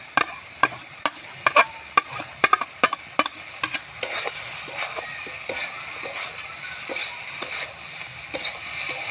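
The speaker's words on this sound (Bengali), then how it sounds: "মশলাটা কষাচ্ছি, এভাবে একটু কষিয়ে দেবো।" Spice masala is stir-fried with cauliflower in a pan, with a spatula scraping in a run of sharp, close clacks over the first four seconds, then softer stirring under a steady oily sizzle.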